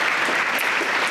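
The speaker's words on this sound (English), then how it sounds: "So a big round of applause for everybody here today." Thick, even applause from a gathered audience at a public address fills the whole short moment, loud and steady with no voices above it.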